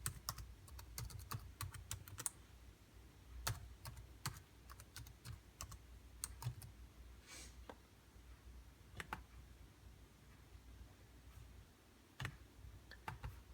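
Typing on a computer keyboard while entering a comment, a steady run of close, crisp key clicks with brief pauses and a few louder taps, heard alone without speech.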